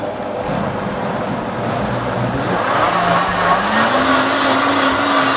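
A blender whirs loudly and steadily, its motor pitch rising and settling as it churns thick, hot lentil and chestnut soup, with no talking.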